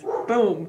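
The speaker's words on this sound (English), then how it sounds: "you can hear my dog barking" A dog barks in a bark-whine burst partway through, close by and moderately loud, overlapping a person talking.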